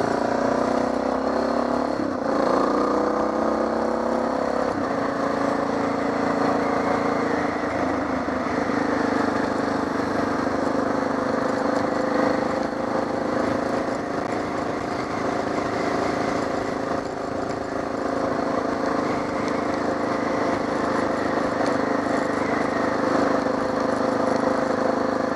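A Suzuki DR650 motorcycle drones steadily while being ridden on the way home, its engine and wind noise loud and continuous, with slight shifts in pitch as speed changes.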